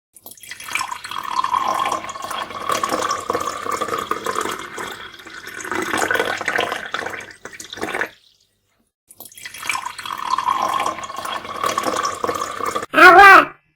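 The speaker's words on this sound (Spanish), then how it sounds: "Váter." A toilet flushes with a loud rushing gush of water that runs for several seconds, pauses briefly, then rushes again, ending with a short voice right at the close.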